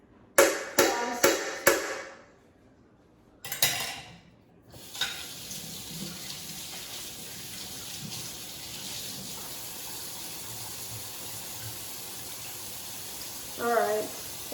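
A kitchen tap runs steadily into a sink as hands are washed, a continuous moderate water rush after some brief knocks and clatter, with a voice briefly at the end.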